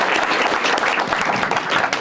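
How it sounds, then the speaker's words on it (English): Audience applause at a live conversation event with a US senator, dense steady clapping from a crowd throughout, fairly loud and close with no voice over it. "Let's hear some applause on that."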